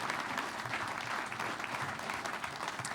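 Audience applause for rodeo cowboy Cody Ohl at a National Finals event, a steady dense wash of clapping from a large crowd, moderately distant and sustained throughout without a break.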